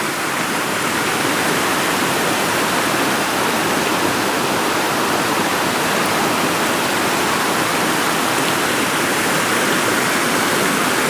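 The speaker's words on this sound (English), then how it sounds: "beautiful, beautiful river" A river flowing outdoors, a loud, steady broadband rush of water that holds unbroken and close with no pauses.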